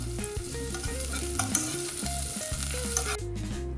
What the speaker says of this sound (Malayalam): കുറച്ച് സവാള അരിഞ്ഞത് ഇട്ട് കൊടുക്കാവേ. ഫ്രൈ ആക്കി എടുക്കണം.